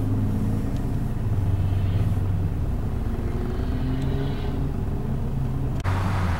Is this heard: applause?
no